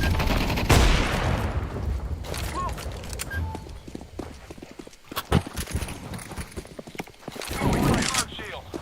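Video game gunfire crackles in bursts amid a busy soundscape, with sharp shots standing out over a steady rumble, and a voice talks over part of it.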